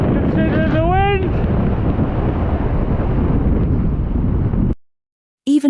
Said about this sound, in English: It suddenly gets insanely windy there.